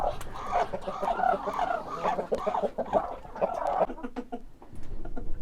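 Several Bielefelder chickens and roosters cluck and squawk continuously at close range, a busy flock chattering over one another.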